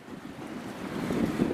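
Steady wind and washing waves on open water in Pamlico Sound, heard aboard a self-propelled barge, with a continuous rough roar and microphone buffeting that swells slightly, with no voices.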